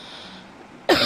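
A single sharp cough bursts out near the end after a second of quiet room hiss, loud and close.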